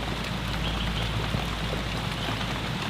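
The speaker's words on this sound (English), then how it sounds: "I'm gonna collect the rainwater as it drips down" Rain falls steadily outdoors around a camper's hammock shelter, a dense wash of drips and patter, close and continuous without pause.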